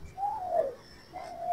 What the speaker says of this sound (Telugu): అదిగోండి గువ్వ